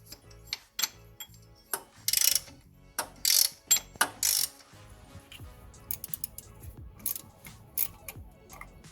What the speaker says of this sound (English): So we're just going to crack this bolt here